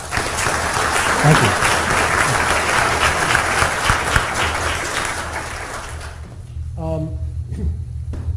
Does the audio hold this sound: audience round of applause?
yes